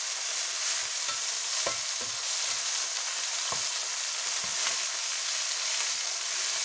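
Spinach and mushrooms sizzle steadily in a hot pan, broken by several sharp clacks and scrapes of a utensil stirring and tossing the vegetables, close and without talk.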